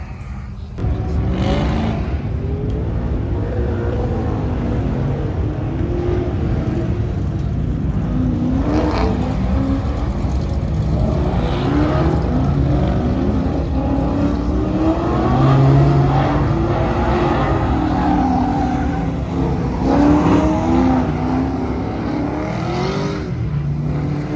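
A Hemi-engined car revs and drives at a Power Tour gathering, its engine rumbling steadily with a few rising surges over a busy outdoor background.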